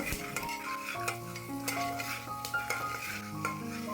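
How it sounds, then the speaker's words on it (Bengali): Assorted lentils fry in hot oil in a pan, stirred with a metal utensil, giving soft sizzling with repeated scraping and clinks against the pan, close and without speech. "প্রথমেই যে ডালগুলোকে বিভিন্ন রকমের ডাল রয়েছে সেগুলোকে ভেজে নেবো"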